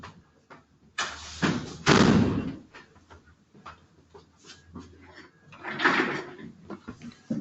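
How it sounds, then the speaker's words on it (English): An indoor door is shut with a couple of heavy thumps and a loud slam, followed by shuffling movement and another bump, with faint room noise between the impacts. "I have to close this door."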